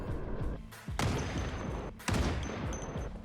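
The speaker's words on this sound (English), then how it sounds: "Hearing gunshots, I hesitate, not sure if it's friend or foe." Bursts of rapid gunfire in the video game Project Zomboid, using the Superb Survivors mod, crack loudly in quick volleys, with two sharp, heavy blasts standing out over a constant rattle of shots.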